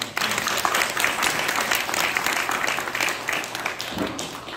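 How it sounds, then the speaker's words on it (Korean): A crowd at a Korean church union's special prayer meeting breaks into sustained applause, dense and fairly loud, holding steady before tapering slightly near the end. "박수로 좀 환영해"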